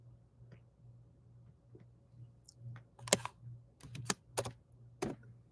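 Fingers type on a computer keyboard: a few scattered soft clicks, then a quicker burst of louder keystrokes and a final tap. The sound is close but fairly quiet against a low background hum, with no speech.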